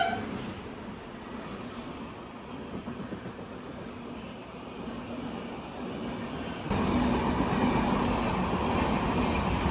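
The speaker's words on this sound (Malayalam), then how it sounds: "അപ്പോൾ ഒരു ട്രെയിൻ നോൺ സ്റ്റോപ്പ് ഇവിടെ കടന്നുകൊണ്ട്" Non-stop train running straight through a railway station without slowing, a steady loud rumble of wheels and wagons that swells louder toward the end as the cars roll close by, with no talk over it.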